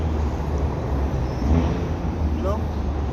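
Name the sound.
loud car engine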